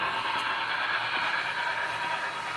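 Union Pacific FEF-3 steam locomotive 844 hauls a train, a continuous rumbling rail roar with faint clatter carrying steadily throughout, no talk present.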